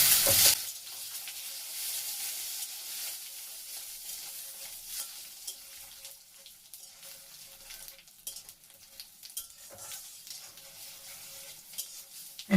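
Dry red chillies, panch phoron, radhuni, cumin and bay leaf tempering in hot oil, a bright burst of spluttering at the start that settles into a faint, steady sizzle with occasional stirring clicks.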